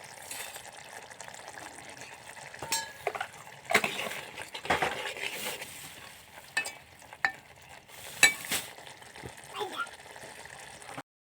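Fried peanut bhajiya and aloo sev are stirred into a simmering potato curry: soft scraping and sizzling pan sounds run throughout, with a few sharper clinks, while someone talks over them.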